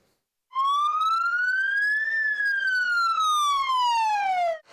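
An all-clear air raid siren at a Ukrainian emergency services chemical attack drill, a single loud wail rising steadily then slowly falling, heard alone for about four seconds.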